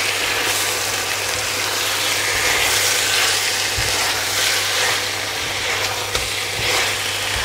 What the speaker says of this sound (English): the courgettes have been cooking away with the lid on